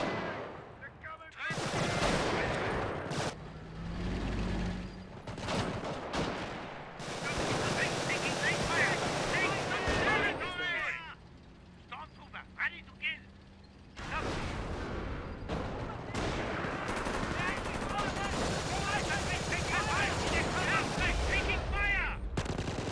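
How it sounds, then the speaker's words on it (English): Bursts of rifle and machine-gun fire with explosions crackle through a Company of Heroes battle, loud and dense, broken by short gaps, with game voices calling out over the combat. "Taking fire! Heavy infantry"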